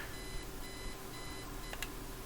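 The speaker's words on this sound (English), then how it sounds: "Turn off alarm clock." An alarm clock beeps in the point-and-click video game Kathy Rain, a steady run of evenly spaced electronic beeps in repeating groups over faint background hum, with no voices.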